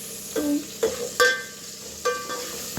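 Dal with turmeric and cumin stirred in a pot with a spoon, several distinct scraping strokes and clanks against the pot, spaced irregularly over a soft background sizzle.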